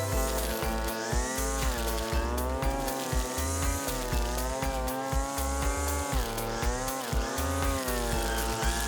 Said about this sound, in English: the LEA brush cutter will effortlessly mow your lawn edges and garden banks